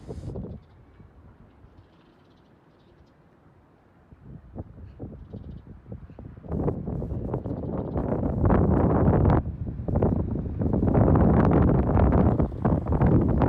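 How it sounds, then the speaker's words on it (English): Strong gusts buffet the microphone on a cold day in Calgary's Bridgeland neighbourhood, starting quiet and rising into loud, roaring rumbles that swell and fade unevenly. "It's bit windy today"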